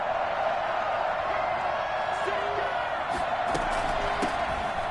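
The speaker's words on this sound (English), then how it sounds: "some oohs and ahs from the crowd as he jukes his way forward for a couple of yards" Stadium crowd in Madden NFL 21 swells with oohs and aahs during a running play, a steady broadband roar throughout with a few sharp thumps and faint calls on top.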